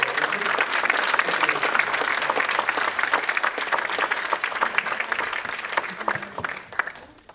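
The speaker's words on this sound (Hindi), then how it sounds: "हमारी टीम की प्रियंका के लिए जोरदार तालियां।" An audience at a stage play applauds a cast member, with dense, steady clapping that carries for several seconds before thinning out at the end.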